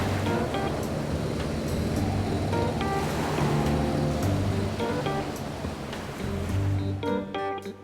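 A boat riding across the open sea in the Love and Deepspace video game, with a steady wash of waves and rushing wind and water under faint tonal game sounds, loud and continuous.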